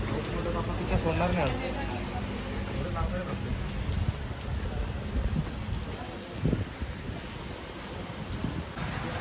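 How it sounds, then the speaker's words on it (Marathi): Rain falls near Kalsubai peak, Maharashtra's highest summit, as a continuous hiss of drops with occasional louder knocks, and voices can be heard talking faintly underneath. "पाऊस येण्याची शक्यता होती तर पाऊस सुरू झालेला आहे"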